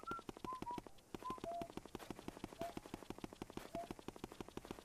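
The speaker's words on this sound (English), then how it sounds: "I love that Luigi's whistling" Luigi whistling in the video game Luigi's Mansion, a faint wandering tune of short whistled notes over a steady rapid ticking pulse of footsteps or game sounds.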